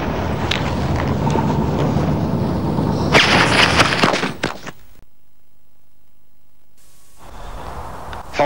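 Fireworks set on the ground and lit go off in a loud burst of crackling, booming blasts that peak before a sudden silence, followed by faint outdoor noise.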